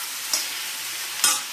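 Cut tomatoes frying in a pan for Andhra-style tomato green chilli chutney, a soft steady sizzle with two brief louder stirring scrapes.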